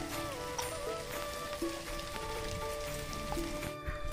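Light rain falls while the sun shines, a soft, fairly quiet patter of drops on surfaces, with faint tonal sounds like birdsong or distant music running beneath.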